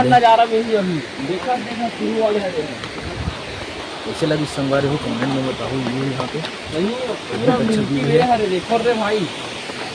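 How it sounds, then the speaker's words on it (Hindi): The Tirathgarh waterfall in hilly country runs with a modest, low pre-monsoon flow, a constant broad rushing wash in the background while someone talks loudly over it almost the whole time. "बहुत अच्छा झरना चला संगवारी"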